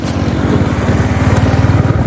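A Royal Enfield Hunter 350 motorcycle riding along in second or third gear, its single-cylinder engine thumping in a steady, close, loud pulse with low rumble throughout.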